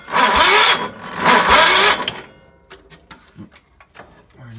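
A small engine with a newly installed head gasket turns over for about two seconds, a loud, rapid chugging crank that stops abruptly and leaves scattered clicks and light handling noises.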